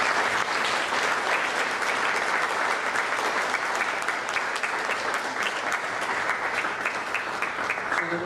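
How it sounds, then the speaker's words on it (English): Guests at Fr Bob's retirement dinner give a steady, sustained round of applause. The close, dense clapping carries on evenly throughout with no talking over it. "she deserves a round of applause for everything"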